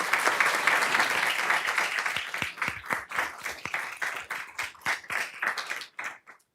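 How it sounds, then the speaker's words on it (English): Applause from the audience at a township council meeting for visiting students, starting as a dense wash and thinning into scattered, separate claps before fading out. "So I do want to just give them another round of applause."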